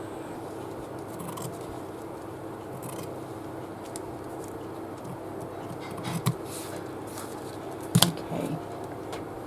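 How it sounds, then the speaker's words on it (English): Scissors snip through quilting fabric up close, a quiet steady rustle of cloth handling broken by a few distinct crisp cuts near the end. "So let's just cut some fabric."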